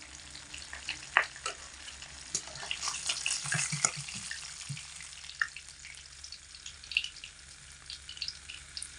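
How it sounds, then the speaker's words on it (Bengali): Fish, a sea bhola fish, frying in hot oil in a home kitchen, with a soft steady sizzle and scattered crackles and pops, some louder spatter bursts and a few low utensil knocks, close and moderately quiet with no talk. "এর পরের যে মাছগুলো আছে একই রকমভাবেই ভেজে নিচ্ছি"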